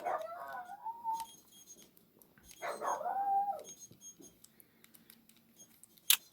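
A dog whines in high, rising squeaks a couple of times, with small scuffling sounds in between and a sharp click near the end.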